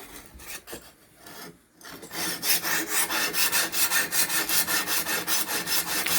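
A knife blade is sharpened on a Ruixin Pro RX-009 diamond plate, giving a few uneven scrapes before settling into a regular, close rasping rhythm of back-and-forth strokes, with no talk.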